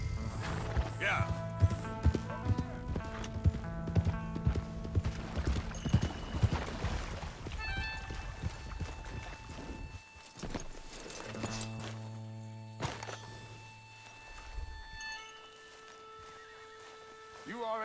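A horse from Red Dead Redemption 2 neighs and snorts while its hooves clip-clop in rhythm, mixed with game speech and music, with further whinnies later in the scene.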